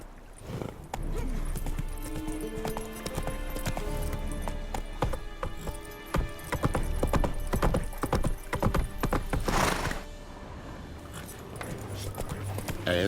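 Hoofbeats of Geralt's horse Roach in The Witcher 3: Wild Hunt video game, a steady clip-clop of hooves on ground with jangling tack, a brief whinny and game music underneath, loud and close throughout.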